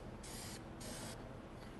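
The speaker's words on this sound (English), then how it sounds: "So is that just like a pigment spray type? It's an oxide and a dye that is in the lacquer." Yellow-tinted lacquer sprayed in two bursts, a pigment spray of oxide and dye in the lacquer, used on a sculpture in a fine art studio; steady broad hiss starting and stopping, close and loud over a low room rumble.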